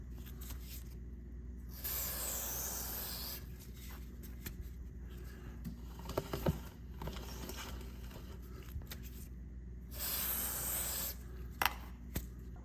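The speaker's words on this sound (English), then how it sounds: "I'm going to spray it on each link of the chain and rotate the chain and get the whole chain covered." Chain lube hisses from a spray can onto a motorcycle chain in three separate bursts, each a close airy spray lasting a second or two, with quiet rattling and handling noise between them.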